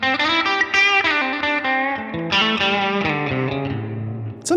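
Electric guitar played through a Line 6 Helix reverb with its decay raised, a distorted melodic line with lush chorus-like shimmer and long reverberant tails, loud and alone throughout.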